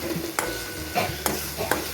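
Lote fish (Bombay duck) frying in a pan, a soft sizzle with a few stirring clicks and scrapes, quiet and close.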